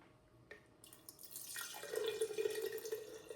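Kombucha poured back into a glass brewing jar, aimed at the sides to avoid the SCOBY: a soft trickling, splashing liquid stream that builds up and continues steadily, fairly quiet and close, with no talk.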